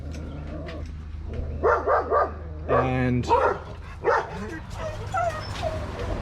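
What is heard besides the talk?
dogs barking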